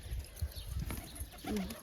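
Domestic pigeons cooing nearby in a rooftop loft, soft low throaty coos repeating through the moment with a longer rolling coo near the end, amid faint background noise.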